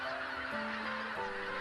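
Migratory geese at Cheonsu Bay honk steadily in a dense, continuous flock chorus at dusk, with overlapping calls and no pauses.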